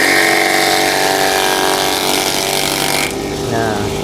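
A cheap grass chopper machine shreds grass with a loud, continuous motor drone and grinding roar that shifts slightly in tone near the end, close up.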